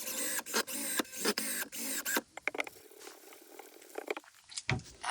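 A power driver whirs in short bursts while driving screws into the underside of a scrap wood desk, followed by quieter scraping and handling noises.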